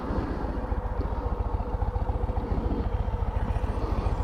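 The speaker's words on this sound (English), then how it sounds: "I'll give you a little sound of the stock exhaust." A Road Glide ST motorcycle with stock exhaust idles steadily with a low, even, rapid pulsing thump, close by, with no voices.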